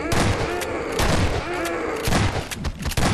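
Shotgun blasts in the Nightmare House 2 horror video game, several loud booming shots spaced across a few seconds, with someone talking over the gameplay.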